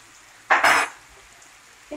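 Carrots caramelizing with sugar get stirred in a pan: a short scraping burst of spoon against the pan, then near quiet, with the start of another stir at the end.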